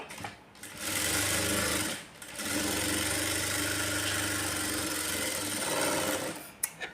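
A sewing machine stitches a blouse lining, running in a short burst, pausing briefly, then whirring steadily for several seconds before stopping, close and fairly loud.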